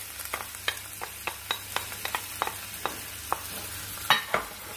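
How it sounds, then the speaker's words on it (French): Blended onion, parsley and coriander stems with garlic go into a pan for a chicken tajine, giving a soft sizzle under a quick series of light stirring scrapes and taps. "maintenant, je vais ajouter l'oignon et les tiges de persil et de coriandre que j'ai passé au mixeur avec la gousse d'ail"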